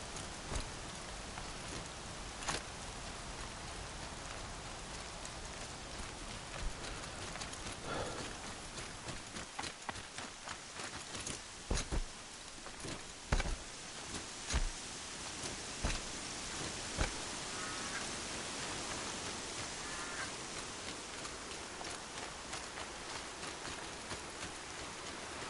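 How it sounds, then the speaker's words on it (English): Rain falling in the video game Horizon Zero Dawn, a steady dense hiss of downpour with scattered sharper drop and click sounds, continuous throughout and without voices. "Then the rains came."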